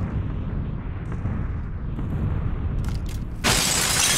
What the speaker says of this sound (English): And now they're bombing the place.